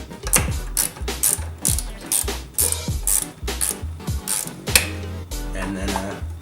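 A wrench works a bolt loose on a BMW E30 during a headlight intake install, giving close, loud bursts of rapid ratcheting clicks and metallic rattles in repeated strokes.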